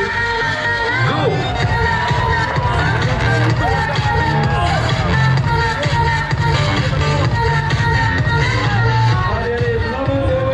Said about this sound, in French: Allez, bravo, les applaudissements très très fort.